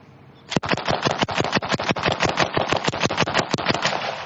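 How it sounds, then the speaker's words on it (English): A Browning automatic rifle fires full automatic at a 1944-style close assault display, unleashing a loud, rapid string of about twenty shots in an even, unbroken burst after a short quiet start. "This is the Browning automatic rifle. This is the other weapon that's in the rifle squad. It's a full automatic."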